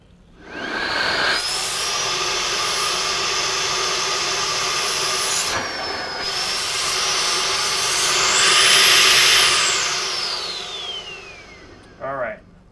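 A Roidmi F8 X20 cordless stick vacuum runs steadily at close range with a high motor whine, hooked to an airflow gauge; the pitch climbs and then slides down near the end before a brief clatter.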